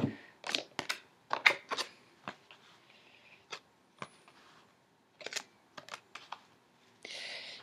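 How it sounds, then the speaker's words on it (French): Oracle cards shuffled and drawn by hand: scattered crisp clicks and soft papery flicks come in quick clusters with short pauses, close and fairly quiet, ending in a brief rustling swish. "tirer une carte de l'oracle"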